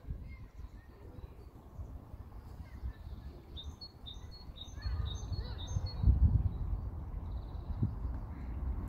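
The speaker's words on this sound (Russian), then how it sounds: "Слышите, да, пение птиц?" Several small birds chirp and tweet outdoors in a quiet setting, their calls light and fairly distant over a low rumble of background noise that grows somewhat louder midway.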